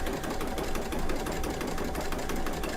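A Brother Luminaire XP2 embroidery machine stitching couching with yarn and black thread gives a steady, fast mechanical whir and rapid needle clatter, close and continuous, with no talking.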